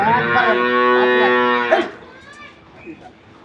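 A six-tooth dairy cow of an improved milking breed gives one loud, drawn-out moo nearby, lasting under two seconds, followed by quieter shuffling and background noise.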